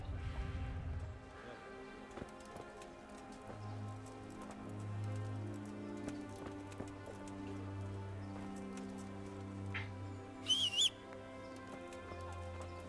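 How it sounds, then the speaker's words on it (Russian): A horse in the medieval game Kingdom Come: Deliverance gives faint, close clip-clop hoof steps and snorts over a low game ambience, with a brief bird-like chirp near the end. "А вот какая-то лошадь стоит."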